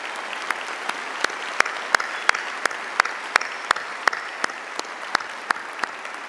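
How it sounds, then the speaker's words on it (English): Audience at a university spring convocation applauds, a sustained indoor wash of clapping with individual sharp claps standing out throughout, steady and fairly close. "Give her a warm applause."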